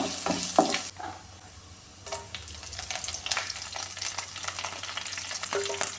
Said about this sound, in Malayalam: ഇതിലേക്ക് ഇഞ്ചി ഇട്ട് കൊടുക്കാമേ ഈ ഇഞ്ചിയുടെ പച്ച ഫ്ലേവർ ഒന്ന് മാറാൻ നന്നായിട്ട് ഒന്ന് ചൂടാക്കി എടുക്കാമേ